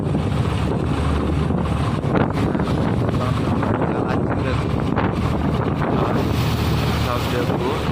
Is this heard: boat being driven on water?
yes